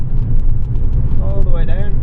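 A race car engine pulls hard on the Mondello Park circuit, heard from inside the cabin as a loud, steady low drone, with someone talking over it.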